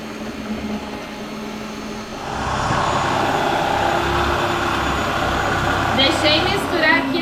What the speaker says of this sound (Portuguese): Deixei misturar aqui na batedeira por 5 minutos.